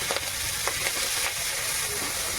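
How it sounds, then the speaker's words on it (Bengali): Shrimp seasoned with salt and turmeric fry in a pan with a steady close hiss and soft crackle, a few brief sharper pops standing out early, with no talking. "চিংড়ি মাছগুলো ভেজে নেব।"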